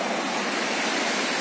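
River water rushes past a small wooden dam in a dense, even, close roar that holds steady throughout, with no voices.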